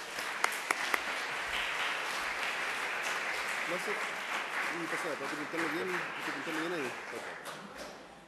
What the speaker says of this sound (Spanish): le damos una cordial bienvenida con un fuerte aplauso al doctor Vargas